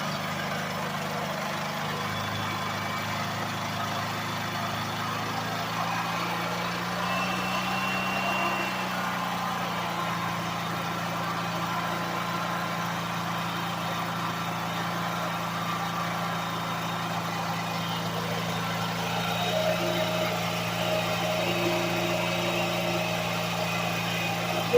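Car engine idling steadily while warming up, a low, even rumble that holds constant for the whole stretch at moderate distance, with no voices over it.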